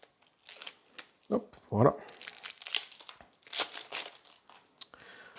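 Packaging of the Shards of Infinity card game crinkles and tears as it is worked open close by, with rustling plastic and cardboard scuffs while someone speaks briefly.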